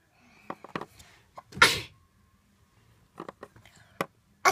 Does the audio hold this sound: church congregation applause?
no